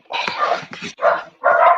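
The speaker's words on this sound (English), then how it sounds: "Oh, we got dogs." Dogs bark close by in a home during an online meeting, three or four loud, rapid barks in quick succession with no talking.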